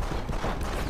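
Enemy gunfire in the game Deus Ex: Human Revolution, a dense, steady burst of shots filling the whole moment at close range with no break.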